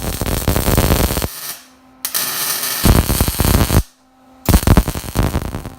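Welding a custom exhaust Y pipe with long-tube headers for an 82-92 Camaro: three loud crackling, buzzing arc bursts, each a second or so long, separated by brief quiet gaps with a faint hum.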